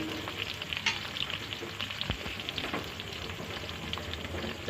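Chicken marinated with salt and yogurt frying in a pan, a steady close sizzle with occasional stirring scrapes and crackles throughout, no voices.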